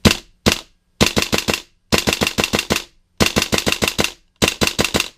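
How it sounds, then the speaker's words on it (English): A WE MK18 Mod 1 airsoft gun fires on semi-auto, producing loud, sharp, close pops: two single shots, then four quick bursts of about five rapid shots each, separated by brief pauses. "here's how the gun fires"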